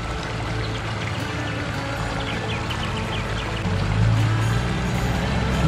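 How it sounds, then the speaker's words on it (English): Water trickles and burbles steadily over stones in a small creek, growing slightly louder and fuller toward the end. "Nice little creek."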